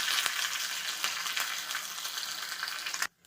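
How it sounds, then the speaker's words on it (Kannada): Mustard seeds spluttering in hot oil while tempering for radish chutney, a dense, steady crackle of sharp pops that runs loud and close for three seconds, then cuts off abruptly near the end. "ಸಾಸಿವೆ ಸಿಡಿತಿದೆ."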